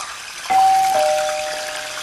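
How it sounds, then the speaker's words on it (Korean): Perilla leaves dropped into slightly heated cooking oil for a seafood side dish set off a sudden loud, steady sizzling hiss that begins partway through and slowly fades, with a faint ringing tone above it. "기름에 깻잎을 이렇게 넣어주시고요."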